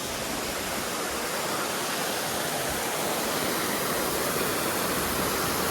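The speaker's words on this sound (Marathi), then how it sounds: "इथं जे पाणीचं ते त्या वॉटरफॉल मधून येतं" A steady, dense roar of rushing water from a waterfall, constant and loud throughout with no breaks.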